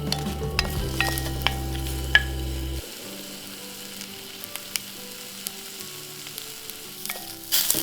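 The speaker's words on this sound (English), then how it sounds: "put a little sesame oil to the pan and char the onion for 3 minutes on a medium-low heat." Onion chars in sesame oil in a pan over medium-low heat, crackling and sizzling steadily up close, with occasional stirring clicks and a softer, quieter sizzle after the first few seconds.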